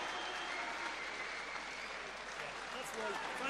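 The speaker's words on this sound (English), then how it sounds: "People are standing up and applauding." A boxing crowd standing and applauding between rounds, a dense continuous wash of clapping and crowd noise heard from a distance, with a commentator talking over it.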